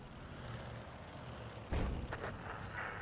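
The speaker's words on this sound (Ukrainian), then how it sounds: "А, тут ще арта." Artillery fire in the tank game World of Tanks: a single heavy boom lands partway through, followed by a few scattered distant cracks over a low, steady background rumble.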